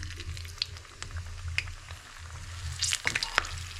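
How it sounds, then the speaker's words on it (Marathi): Green chillies frying in hot oil while making vada pav, a steady low sizzle with scattered sharp crackles and pops that grow busier toward the end, fairly faint and close. "आता आपण मस्त फ्राय करूया मिरच्या"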